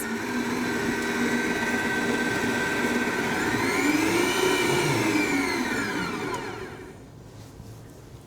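Electric mixer beating eggs into choux pastry dough, a steady loud motor whir with a pitch that rises as the speed increases, then tails off near the end.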